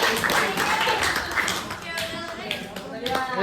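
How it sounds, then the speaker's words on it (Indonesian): An audience claps at a community service event, with scattered mixed hand claps forming a brief burst of applause alongside voices talking. "Tepuk tangan dong buat Erwin Sande."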